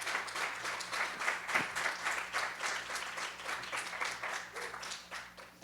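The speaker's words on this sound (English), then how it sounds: "please, a round of applause for everyone who's made this happen" Conference audience applauding the organizers at a closing session, steady clapping throughout, moderately loud and continuous in a hall.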